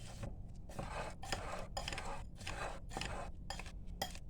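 A spoon stirs cinnamon and other ingredients in a pot, giving a faint, rhythmic run of metallic scrapes and clinks repeating roughly every half second.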